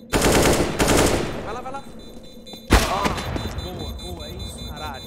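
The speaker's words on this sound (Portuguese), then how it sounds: "Dá uns tiros, dá uns tiros." Rapid bursts of automatic gunfire from a Wingman 2v2 match, loud and clattering, with a sharp volley near the middle while a player speaks excitedly over it.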